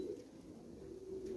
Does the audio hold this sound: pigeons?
yes